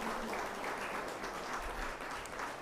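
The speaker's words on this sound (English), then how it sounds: "let's get one more round of applause for Dr." A crowd at a general assembly opening ceremony claps for Dr. Barnett, a thick, continuous wash of applause that holds at an even level throughout the short burst.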